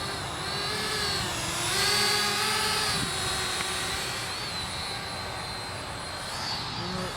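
A Holy Stone HS160 camera drone whirs in flight outdoors in wind, a steady high-pitched propeller whine that rises and dips slightly in pitch as it maneuvers, constant and fairly close.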